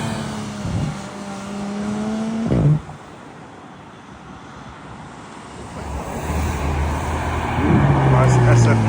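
A Lamborghini supercar in a subtle colour arriving at a prestigious supercar event drives past outdoors, its engine note rising and falling twice against steady wind noise, loud and close.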